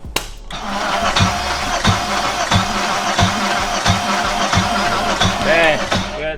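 A car engine cranks and catches, then runs with a rough idle and some revving, loud and close, with a few people talking over it.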